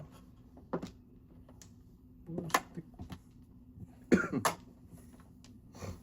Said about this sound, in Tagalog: Inuubo na eh. Ubo na eh.